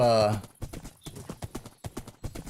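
Horse hooves clip-clopping in a video game as an animal trots along, a steady run of close, sharp hoof beats after a brief voice at the start.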